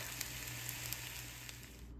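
Mushrooms sauté in a pan for a steak and potato soup, a quiet continuous sizzle with faint crackles and pops, close by and with no voices.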